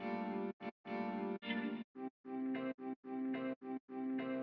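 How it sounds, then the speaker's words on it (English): Drum rack sample slices in Ableton, their attack slowed to 100 ms, play as a series of soft-edged, swelling tonal hits with gaps between them, a fairly even rhythmic sequence with no talking. "slowing down the attack to 100 milliseconds changes the envelope of every slice in the drum rack to sound like this."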